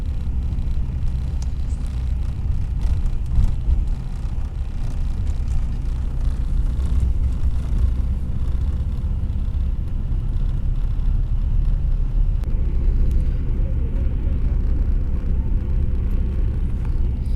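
A Dolphin luxury bus on a highway after rain, heard from inside as a continuous low engine and road rumble, steady and even throughout with no talking.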